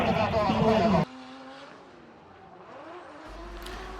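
Drift cars at the China Drift Championship qualifying, an engine revving hard at first, then cutting to quieter engine drone and tire noise, with a voice talking over it.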